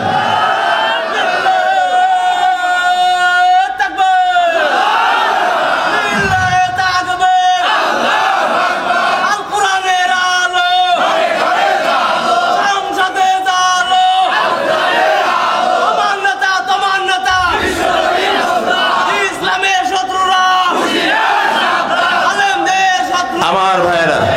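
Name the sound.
crowd shouting takbir at a religious gathering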